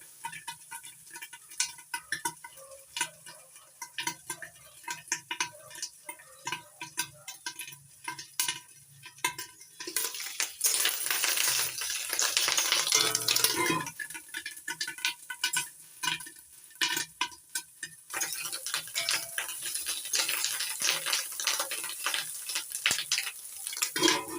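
Katla fish eggs with salt stirred and fried in a pan, with a steady soft sizzle and frequent scraping ticks of a utensil against the pan, louder and denser in the middle stretch, no voices.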